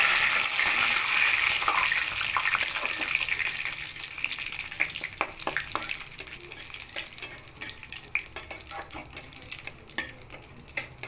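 Whole cumin seeds, two dried red chillies and two bay leaves hit hot oil for a vegetable dalia khichuri, giving a steady close sizzle that slowly fades, with scattered crackles and pops.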